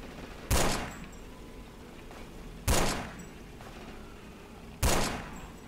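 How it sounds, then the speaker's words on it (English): An MG42 machine gun fires in Forgotten Hope 2, three short bursts spaced about two seconds apart, sharp and fairly distant, each trailing off in a brief echo. "There's an MG42 behind us."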